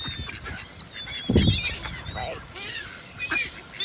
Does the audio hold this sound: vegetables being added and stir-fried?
no